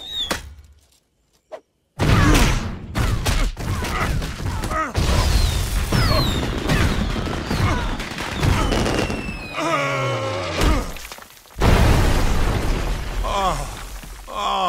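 Explosive arrow bolts fired from a quiver in a cartoon fight, heard as a rapid series of pops, bangs and whooshing bursts after a brief quiet start, mixed with shouting voices and busy action effects.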